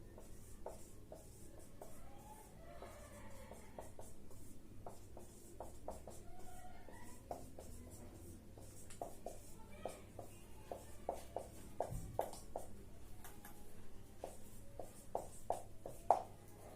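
A teacher writes on a classroom board, producing faint, scattered taps and short scratchy strokes in an irregular rhythm over a low steady room hum, with no speech.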